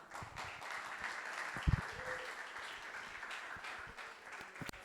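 Church congregation at a children- and teens-led worship service claps in praise, a soft, distant steady patter with a couple of sharper nearby claps.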